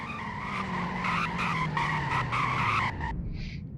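A car in the Greenville video game brakes hard, its tyres skidding in a harsh, continuous screech for about three seconds before it cuts off abruptly.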